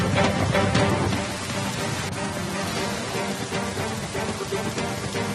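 Heavy monsoon rain in Assam pouring down in a dense, continuous hiss, strongest at the start and then holding steady without speech over it.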